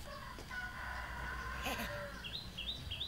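Rooster crowing in a rural Vietnamese comedy setting, moderately loud with a few rising cries toward the end over steady background noise, no talking.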